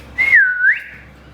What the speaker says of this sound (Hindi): अभी कुकर की सीटी मार दो